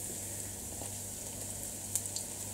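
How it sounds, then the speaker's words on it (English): Flour-dusted chicken strips frying in hot oil, a steady close hiss and crackle that holds evenly, with a couple of sharper pops near the end. "And you just lay them around evenly in the oil so that everybody's got contact."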